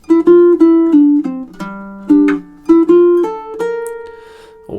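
Baritone ukulele picks out a melodic riff of plucked notes over two measures, some thumbed on open strings, with a steady rhythm and clear, close tone and no talking.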